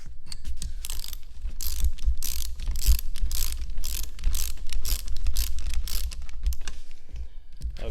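Ratcheting clicks from tightening a vent window assembly on a 1967 Pontiac Firebird, a steady run of close, rapid mechanical clicks lasting several seconds with no talk.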